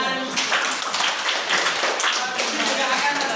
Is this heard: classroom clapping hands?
yes